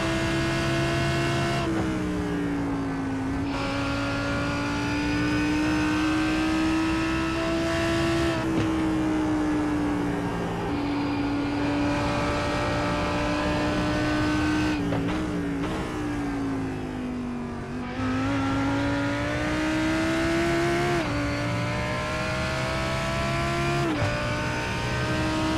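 A Lamborghini Huracan GT3 EVO race car in the iRacing simulator lapping Fuji Speedway, its engine screaming loud and steady, rising through the gears with sharp drops at each shift and at braking for corners.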